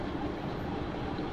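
A Mumbai local train running, heard from inside as a continuous loud rumbling roar of wheels and carriage noise, with no talk.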